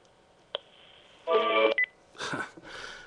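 Telephone keypad tones sound in short bursts: a brief beep, then a few quick dialing tones, followed by two more muffled tone bursts.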